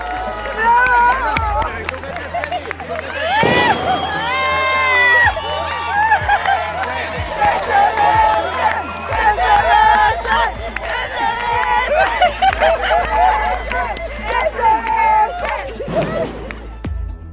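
A crowd at a Valencia Falla celebration, Universitat Vella-Plaça, cheers and claps loudly and steadily, with excited shouts and voices rising over the noise for the whole stretch.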